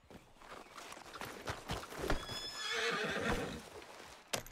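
Horse hooves clip-clop along with a whinny in the Red Dead Redemption 2 video game, close and moderately loud, with a brighter neigh swelling near the middle and a sharp knock at the end.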